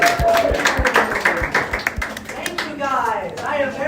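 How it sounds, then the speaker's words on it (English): A cave tour group claps for itself in a short, uneven round of applause, separate sharp hand claps close by amid voices and chatter. "Give yourselves a round of applause."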